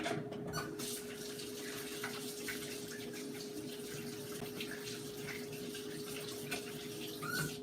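Water runs from a tap as dirty hands are washed under it, a steady close rushing splash with a faint hum, continuous throughout and without speech.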